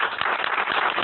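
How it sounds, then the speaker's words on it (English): A small meetup crowd at a talk on Dynamo for architectural and structural projects claps briefly for the presenter, with a few distinct hand claps within a thin, short round of applause. "Why don't we give an applause to"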